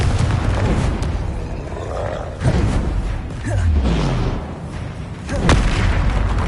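Blasting spell explosions in a Harry Potter video game, deep booming roars and crackling bursts layered over a dense, loud battle soundscape with no pauses.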